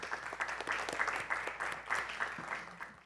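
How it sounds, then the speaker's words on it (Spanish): A church congregation applauding during a sermon, a fairly soft but steady wash of many hands clapping in a hall, continuing evenly throughout. "Yo creo que Cristo Jesús merece un aplauso de parte de ustedes"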